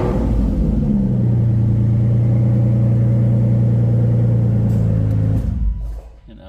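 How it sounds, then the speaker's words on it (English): A 2016 Aston Martin DB9 GT running after its engine start, a loud, steady low rumble that holds close for about five seconds before dropping away and fading. "there's a little spot right here, engine start."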